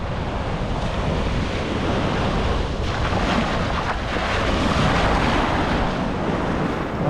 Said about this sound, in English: Waves are a lot bigger here than they were at South Beach